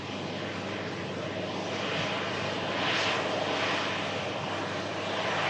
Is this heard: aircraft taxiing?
yes